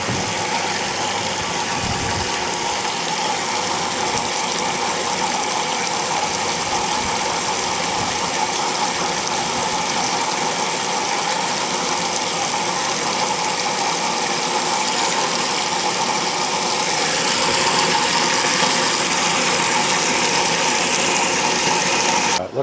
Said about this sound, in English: I'll let it fill up here and we can see how it agitates.